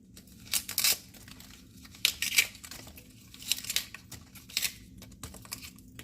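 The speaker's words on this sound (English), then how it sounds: "going to peel away the skin part, all the leaves." Skin and leafy crown are peeled off a pineapple by hand in a quiet room, giving a series of short, crisp tearing and crackling bursts close to the microphone with brief pauses between them.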